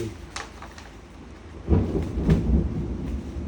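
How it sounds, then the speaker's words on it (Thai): Rain falls steadily with a low rumble of thunder swelling midway and rolling on to the end, close and fairly loud with no talk over it. "ฝนตกนะฝนตกเลย"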